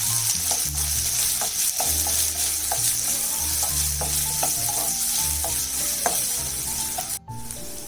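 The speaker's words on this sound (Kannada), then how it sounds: "ಒಂದು ಈರುಳ್ಳಿ ಚಾಪ್ ಮಾಡ್ಕೊಂಡಿರೋದು ಹಾಕೋಬೇಕು. ಸ್ವಲ್ಪ ಬ್ರೌನ್ ಆಗೋವರೆಗೂ ಈರುಳ್ಳಿ ಚೆನ್ನಾಗಿ ಹುರ್ಕೋಬೇಕು." Chopped onion frying in oil in a pan, a steady close sizzle with a spoon scraping and stirring at intervals throughout, with no talking.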